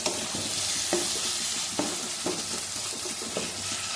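Goat trotter paya masala sautéing in a pan, a steady sizzle and fry with occasional sharper scrapes and clinks of stirring, close and continuous with no talking.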